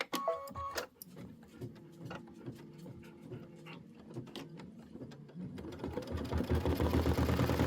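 A sewing machine stitches down a quilt tile for a Kimberbell Home Sewn September tiling scene, its rapid mechanical ticking running steadily throughout and growing louder and denser near the end, with no talking.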